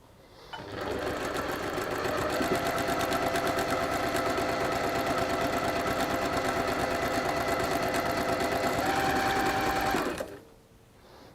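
A sewing machine chain-stitches fabric pieces pinned together in one long, steady, close run of rapid mechanical whirring lasting about nine seconds before stopping.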